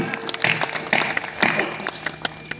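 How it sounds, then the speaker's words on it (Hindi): Scattered clapping from an audience at a Hindi poetry gathering (kavi sammelan) in Behta Kalan, uneven and fairly sparse, with individual sharp claps rising and falling and faint murmur underneath. "तालियां बजाइए।"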